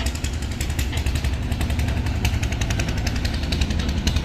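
Engine of the passenger river launch MV Rahmat running underway toward Chandpur's Char Bhairabi, a steady loud diesel chugging with a rapid hammering rhythm throughout, no talk.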